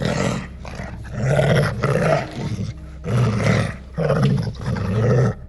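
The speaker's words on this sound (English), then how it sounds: "Ambush! Bone dogs!" Bone dogs from the Kenshi video game roar and growl in loud, repeated bursts during an ambush, each snarl lasting about a second with short gaps between.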